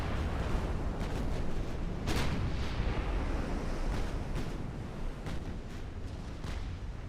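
Warship naval guns firing a broadside in Ultimate Admiral, a dense rumbling roar of heavy booms with several sharp cracking shots standing out, loud and continuous.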